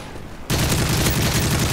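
A sentry turret in the video game Modern Warfare 3 opens fire abruptly after a short quiet lead-in, then keeps up a loud, continuous burst of gunfire to the end.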